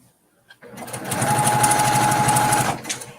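A sewing machine stitches binding onto a quilt in one loud, close burst of rapid, steady whirring about two seconds long, starting after a brief quiet moment and stopping abruptly.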